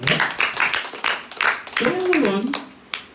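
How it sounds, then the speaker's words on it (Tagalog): A church congregation at a Sunday service breaks into a short burst of clapping, scattered hand claps mixed with a speaking voice and some murmured talk. "Isang palakpak na tayo."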